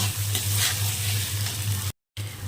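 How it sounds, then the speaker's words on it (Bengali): Spice masala sizzles and fries steadily in a pan while being sautéed for atta Maggi, a constant close crackle with a low hum, broken by a brief moment of silence near the end. "তাহলে মশলাকে ভালো মতো কষিয়ে নেব"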